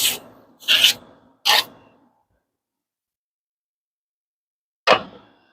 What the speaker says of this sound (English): So you just kind of lay your knife flat, angle it up, follow the same angle on your stone,